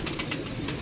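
Pigeons coo softly in a rolling, repeated murmur, close by and steady through the brief moment.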